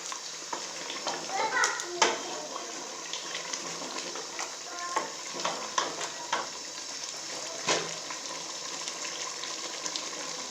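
Chicken for Pakistani chicken karahi frying in about a cup of ghee, a steady close sizzle broken by scraping stirs against the pan, with a voice in the background at times.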